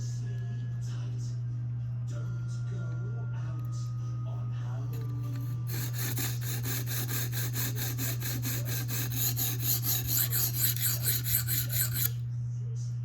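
A Spyderco Manix 2 blade being reprofiled on a sharpening stone gives steady rhythmic rasping strokes, quieter at first and then fast, loud and continuous in the latter half, over a constant low hum.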